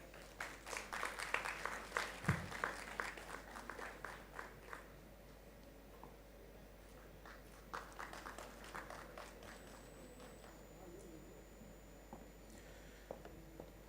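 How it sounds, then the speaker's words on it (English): Audience applause at a felicitation ceremony during a Youth 20 consultation at IIM Raipur: rapid, faint clapping that rises early, thins out, then swells again in scattered patches, heard from a distance in a large room. "Let's have a round of applause."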